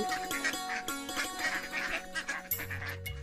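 A cartoon duck beside a village pond gives a quick run of nasal quacks, close and fairly clear, with other soft sounds around it.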